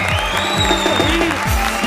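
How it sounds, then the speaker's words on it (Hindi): Studio audience at a comedy stage show applauding loudly over music, with a tonal line and rhythmic low thumps running beneath the dense clapping for a couple of seconds. "जोरदार तालियां हमारे शेट्टीज के लिए।"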